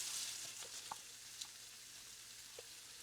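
Yellow onion sautés gently in a pan for Swedish meatballs, giving a faint, even hiss with a few soft ticks and pops.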